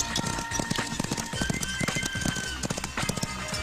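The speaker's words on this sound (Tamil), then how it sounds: "என்னடா ஜோடியை கூட்டு போன குதிரை எம்டியா வருது?" Horse hooves clip-clop in a quick, steady rhythm, close and clear, with a brief whinny and some voices nearby.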